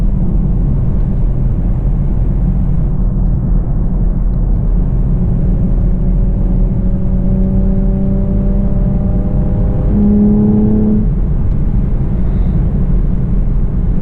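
A Camaro V6 1LE engine pulls hard in third gear, a loud, steady in-cabin drone and road roar with rising engine tones climbing toward the end before easing off.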